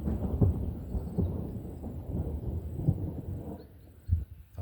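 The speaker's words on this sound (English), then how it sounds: "Thunderstorm." Thunder rumbles through a thunderstorm outdoors near a vegetable garden, a low rolling boom that swells and fades over several seconds, with a sharper low thump near the end and no speech.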